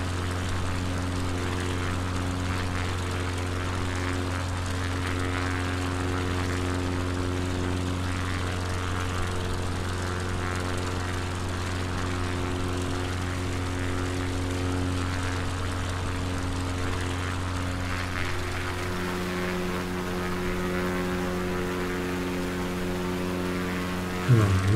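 Propeller aircraft engine in a bush-flying simulation, throttled back to half power, droning steadily with a strong low hum and harmonic tones that shift pitch near the end, no speech.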